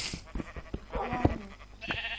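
A Minecraft sheep bleats in a short wavering call amid scattered clicks and game effects, with a brief electronic tone near the end, as a dog attacks it.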